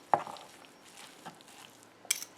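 Forks pull apart cooked brisket, giving soft, faint scrapes with a sharp metallic clink at the start and another near the end.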